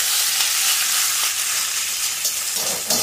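Chicken sizzles in hot oil in a home kitchen pan, a loud steady crackling hiss with bursts of spattering, with no voices.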